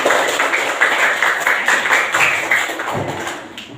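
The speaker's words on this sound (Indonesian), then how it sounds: "Tepuk tangan dulu buat semuanya" Students in a coding and AI lesson clap together in a brisk, dense burst that holds steady, then thins and fades near the end.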